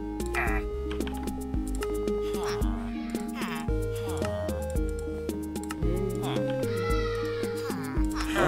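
A recorded cat meow is played back amid dense music and other sound effects, surfacing in brief wavering cries over a busy, continuous mix.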